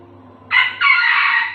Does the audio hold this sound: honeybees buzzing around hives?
no